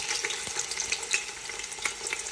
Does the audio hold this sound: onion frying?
yes